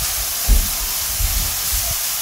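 Carrots and onions frying in a pan for cottage pie, a steady close hiss of sizzling with a couple of faint soft knocks, no talk.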